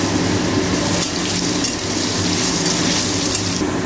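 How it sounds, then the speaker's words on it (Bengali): Chopped capsicum sizzles steadily in hot oil already seasoned with white cumin and a dried red chilli, a dense continuous frying hiss with faint stirring and utensil clinks, close and loud throughout. "এবার ক্যাপসিকাম কুচানোগুলো দিয়ে দেওয়া হচ্ছে, ক্যাপসিকামগুলো বেশি ভাজা হবে না"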